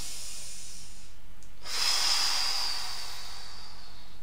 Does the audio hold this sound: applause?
no